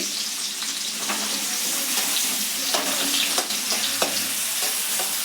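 Onions fry on a low flame for a tempering, giving a continuous close sizzle and crackle with occasional stirring scrapes throughout.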